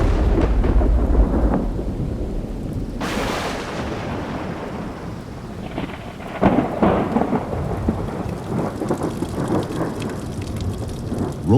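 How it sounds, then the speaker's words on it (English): Early-morning thunderstorm in a rainforest: steady heavy rain pours on the forest floor while deep thunder rumbles and cracks, with a sharp nearby clap early on and rolling, fading booms later. "rolling thunder can be heard in the distance as the storm's power fades"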